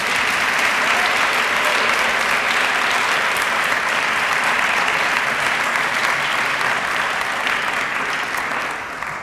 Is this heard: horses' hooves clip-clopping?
no